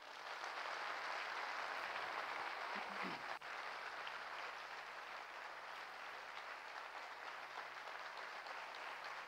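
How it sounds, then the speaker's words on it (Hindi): A crowd at a training event applauds steadily, a continuous wash of clapping that holds even for nine seconds, heard from some distance and fairly quiet. "तो एक बार फिर से अपने लिए तालियां बजाइए."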